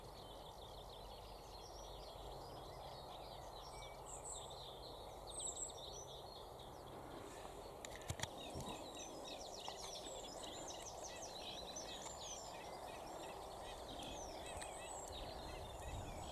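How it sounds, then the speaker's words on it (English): Busy, chattering songs of sedge warblers and reed warblers in marsh reeds, steady and layered at a moderate distance, with a brief knock partway through. "There's sedge warbler and reed warbler in the background, you may be able to hear."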